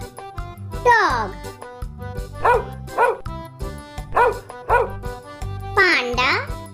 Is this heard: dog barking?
yes